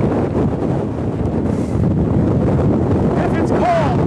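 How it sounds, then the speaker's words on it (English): Steady wind buffeting an outdoor microphone, a continuous loud rushing roar with no gaps across the whole stretch, gauged against the Beaufort wind scale. "going into a chart of the Beaufort wind scale and seeing how fast this wind is"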